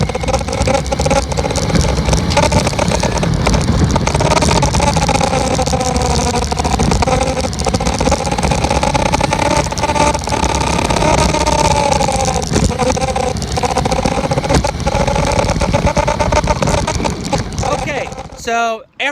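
Sears Lobo and Road Rat toy cars race with a loud, continuous motor whine and buzz that wavers in pitch throughout, ending abruptly near the end.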